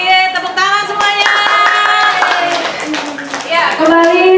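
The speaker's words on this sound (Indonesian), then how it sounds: "Tepuk tangan semuanya." Classroom applause from schoolchildren, a burst of clapping mixed with children's voices and chatter throughout the short stretch.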